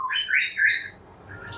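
An imported wild-caught white-rumped shama sings in a short burst of bright, varied whistled notes, with a brief chirp at the end, heard close and alone.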